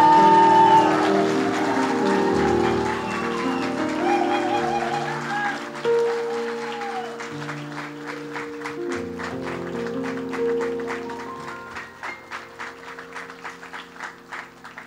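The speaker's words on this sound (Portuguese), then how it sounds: "Uma salva de palmas." Wedding guests applaud the newly married couple at a church ceremony, steady clapping over lingering organ or keyboard music that thins into distinct sharp claps near the end.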